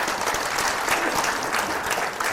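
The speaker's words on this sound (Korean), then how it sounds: "여러분 박수 한번" An audience at a book concert breaks into applause, a dense, even burst of many hands clapping close and loud for a couple of seconds.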